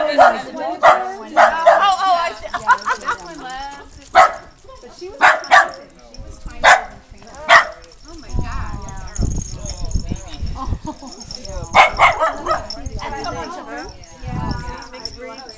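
Large white dogs at a child's birthday party barking in short repeated bursts, near and loud, mixed with people talking and exclaiming around them.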